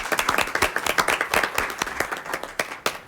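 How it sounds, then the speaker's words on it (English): A council meeting audience claps for newly named appointees, a lively burst of many hands close by that carries on steadily for a few seconds. "we'll give you a clap now."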